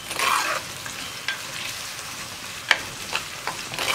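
Beef pickle ingredients with curry leaves sizzle softly in a pan while a spoon stirs and scrapes against the metal, a steady frying hiss punctuated by light clinks.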